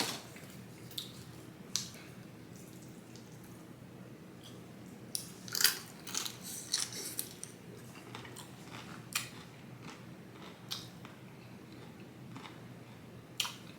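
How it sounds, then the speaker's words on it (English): Close, quiet chewing of a Chipotle chicken bowl, with soft sporadic crunches, squishes and clicks of the mouth spread unevenly across the stretch, no talking. "Can you hear me chew?"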